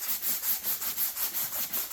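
Rhythmic back-and-forth scratching of 220 grit sandpaper on an RC model plane, close and steady, with about eight even strokes and nothing else heard.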